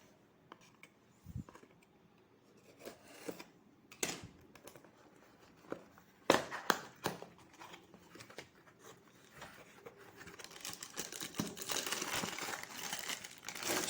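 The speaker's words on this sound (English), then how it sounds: "Now let's unbox the power supply." Packaging for a CCTV power supply crinkles and rustles close by in scattered bursts that grow busier and denser toward the end, with no speech.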